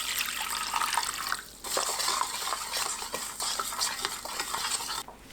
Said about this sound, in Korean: 굵은 소금 1큰술, 물 500ml 넣고 소금을 녹입니다